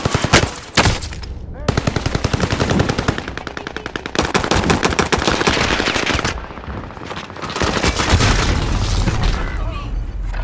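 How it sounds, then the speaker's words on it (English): Loud automatic gunfire in the Call of Duty Warzone video game, long rattling bursts with booming shots that break off briefly and then resume, close and dominant, with voices mixed in. "Where did he shoot me from?"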